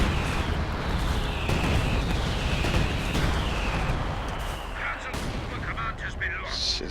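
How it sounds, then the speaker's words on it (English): Air supremacy glider bombing run in a real-time strategy game battle between British and German OKW forces: a dense, continuous roar of overlapping bomb blasts and explosions, loud and sustained, easing slightly near the end. "It's one hell of a bombing run."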